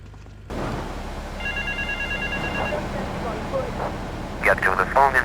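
In Grand Theft Auto III, a payphone rings in short repeated electronic bursts, medium loud, mixed with city ambience and a voice speaking over it, with sharper tonal chirps near the end.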